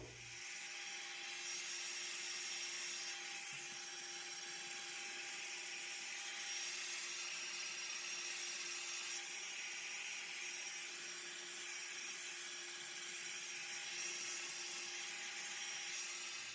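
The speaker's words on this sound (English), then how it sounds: "I'm going to begin blow drying." A hair dryer blows short pixie-cut hair in a continuous, steady whooshing roar that stays close and even throughout, with a faint constant whine and no talking.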